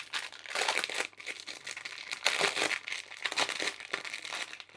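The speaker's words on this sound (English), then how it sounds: "So we'll open up the bag, just find the glue strip, peel it down." Crinkling plastic from opening a bag of diamond painting drills and peeling back its glue strip, in close, soft rustling bursts with no talk.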